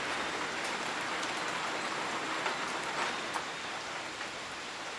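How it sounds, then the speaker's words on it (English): Heavy rain pouring during a severe thunderstorm, a dense steady hiss of drops drumming on surfaces, loud and close, with a few sharper spatters and no voices. "we were in an area of heavy rain"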